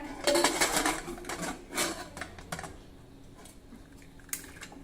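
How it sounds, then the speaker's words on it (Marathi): Lid of a pressure cooker being closed over a pot of urad dal, a series of close metallic clanks and scrapes, loudest at the start and fading into a few lighter clicks. "झाकण बंद करूया"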